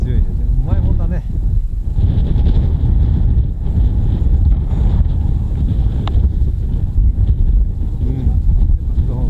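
Very strong wind roaring over the microphone while sailing, a steady loud buffeting rush throughout, with people talking underneath.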